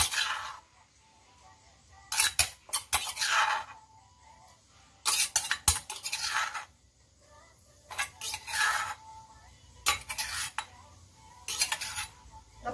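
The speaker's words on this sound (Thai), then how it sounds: "ตักน้ำยำของเรานะคะลงไปเลยนะคะ" A spoon clinks against a dish while scooping spicy yum dressing for lime pork salad, short bursts of metallic scraping and tapping that come in separate clusters with quiet gaps between them.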